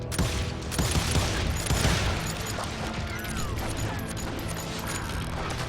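Dense, continuous gunfire fills a shootout in the Western video game Call of Juarez Gunslinger, with rapid overlapping shots and booms sustained for the whole stretch and no clear speech on top.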